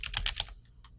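Search words typed on a computer keyboard: a quick run of close, crisp key clicks, followed by a couple of fainter taps, with no voice.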